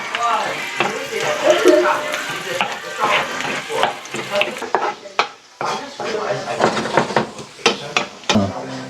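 Lapu-lapu fish for a sweet and sour dish browning in a frying pan, a steady close sizzle broken by clattering utensil scrapes and knocks against the pan, with a voice talking over it in places.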